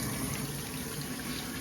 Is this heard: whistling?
no